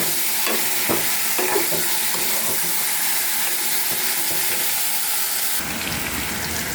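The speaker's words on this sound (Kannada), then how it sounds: "ಸ್ವಲ್ಪ ಎಣ್ಣೆಯಲ್ಲಿ ಬಾಡಿಸಿ ಬದನೆಕಾಯನ್ನು" Eggplant pieces sauté in a little oil, giving a steady close sizzle with stirring scrapes throughout and a slight shift in the hiss near the end.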